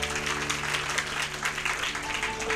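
Church congregation clapping together during a sermon, a dense steady patter of many hands, fairly close and even in loudness throughout.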